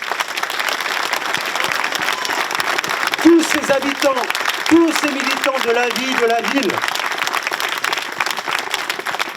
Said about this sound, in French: Ce sont les militants, les habitants, applaudissez-les.